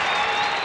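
A crowd at a 1993 college lacrosse game between Syracuse and Johns Hopkins breaks into a brief, dense burst of applause and cheering after a defensive play.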